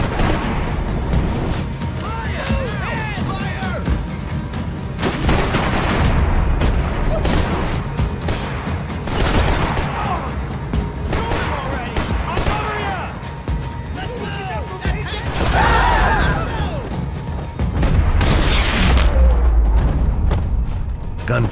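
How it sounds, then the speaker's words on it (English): Bursts of gunfire and booming blasts crackle repeatedly through a busy Max Payne 3 game mix while a voice talks over them. "Gunfire over Hoboken."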